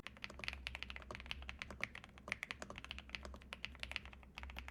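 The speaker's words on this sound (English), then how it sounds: "you get the FR4 plate with the brand new avocado switches" Fast typing on a budget creamy mechanical keyboard with avocado switches and an FR4 plate gives dense, even clacks, close up and alone.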